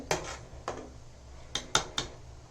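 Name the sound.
lid placed on vegetable biryani cooking pot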